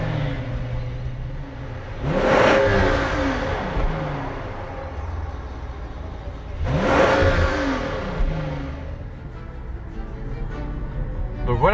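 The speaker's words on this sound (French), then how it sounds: "je vais la démarrer et faire quelques revs pour vous montrer ce que donne le V12" A Rolls-Royce Dawn's V12 engine revs twice in neutral, each blip rising to a roaring peak and settling back to a steady idle rumble, heard up close with no talking.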